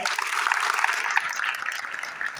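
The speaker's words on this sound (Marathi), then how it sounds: "एकदा सर्वांनी राघव आणि उत्तरासाठी टाळ्या द्या." An audience at a children's drama festival at a school applauds, a steady dense wash of many hands clapping, moderately loud and slowly fading over a couple of seconds.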